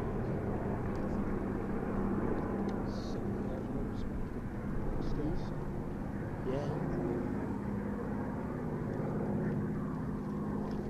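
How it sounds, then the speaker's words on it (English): A P-38 fighter aircraft flying over the Sywell Airshow, its steady engine drone filling the air at a distance, with a commentator talking continuously over the sound. "P-38 being flown by Raymond Reedman"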